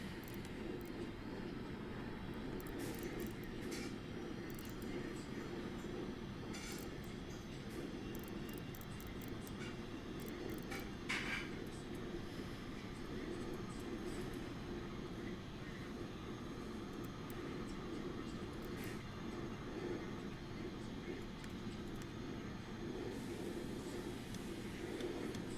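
A light airplane engine in a flight simulator game drones steadily and fairly quietly throughout, a constant rumbling hum with no clear changes and no voices over it.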